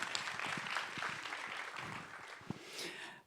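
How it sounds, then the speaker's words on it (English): An audience at a keynote session of an industrial heritage conference applauds, a faint, steady spread of clapping with a few sharper claps standing out, continuing on its own without speech. "Give her a round of applause."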